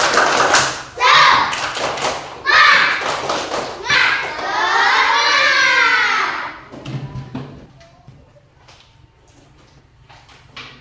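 Schoolchildren in an Indonesian classroom perform a rhythmic spirit clap, bursts of loud patterned clapping mixed with chanted voices, then fading into scattered taps and quiet chatter.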